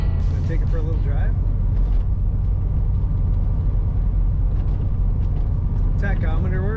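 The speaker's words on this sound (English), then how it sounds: "Here we have a 1970 Chevrolet Corvette. Gonna take it for a little drive." A 1970 Chevrolet Corvette rolls along with a steady, deep engine rumble close by, and brief bits of a voice come through over it.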